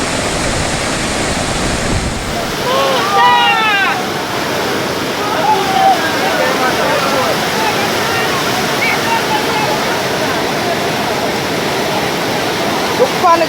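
Floodwater after Hurricane Elsa rushes through a gully in a loud, continuous roar close by, with a brief whistle-like sound and a voice talking over the torrent.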